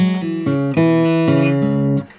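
Acoustic guitar playing the top part of a hill country blues riff, a brief run of plucked notes with small slides and pull-offs, close, solo and unaccompanied.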